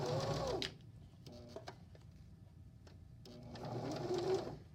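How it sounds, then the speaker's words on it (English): A sewing machine stitching fabric for a stuffed animal runs in two brisk bursts of rapid, even whirring, one at the start and one at the end. A quieter pause with a few small clicks separates them. "and then I need to continue to sew"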